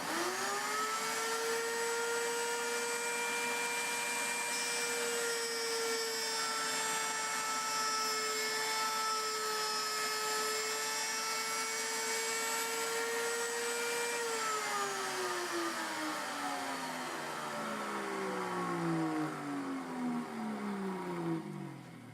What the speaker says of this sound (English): Okay, so I'm ready to start cutting the slots.